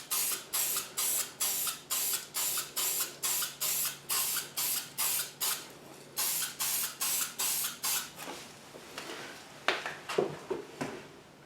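Short bursts from a spray can applying light coats of paint over rust spots on a Mercedes Sprinter van, about a dozen evenly spaced hisses in a steady rhythm, then longer uneven spraying with a few clicks, close and loud.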